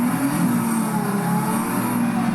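Engine of the Nissan Z Proto race car in Project Cars 3 on PS5, a steady loud droning hum held at constant revs from inside the car, with no speech.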